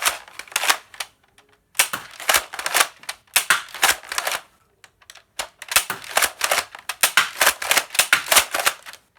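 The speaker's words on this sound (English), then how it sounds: "So we're doing a firing demo now, starting off with the main blaster, the crossbolt." A handmade crossbolt blaster fires in rapid bursts of sharp mechanical clacks and snaps, close and loud, grouped in irregular clusters with short pauses between.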